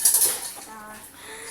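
Dishes, pots and pans clatter in a home kitchen during washing up after cooking biko sticky rice, with a sharp burst of clinks at the start fading into lighter scattered rattles under soft talk.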